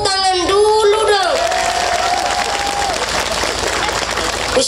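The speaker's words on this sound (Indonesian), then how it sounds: "Tepuk tangan dulu dong." An audience at an Islamic sermon in Java breaks into loud, sustained applause mixed with crowd cheering, following a brief held vocal tone at the start.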